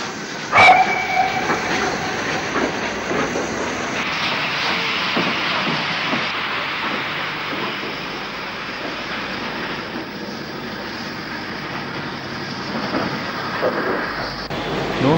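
A GWR 0-6-0 pannier tank steam locomotive, number 7437, shunting milk tanks and making up a freight train in 1964. A brief sharp whistle opens, then a continuous rumbling rail clatter with a few faint knocks runs steadily throughout.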